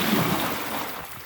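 Shore water and small waves wash in with a steady, close rushing surge and some wind noise on the microphone, with no voices.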